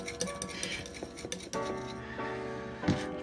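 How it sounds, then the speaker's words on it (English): Egg being whisked with a utensil in a bowl for breading walleye fillets, giving rapid clinking and scraping strokes, close and fairly quiet, with a few louder knocks. "Let's stir it up."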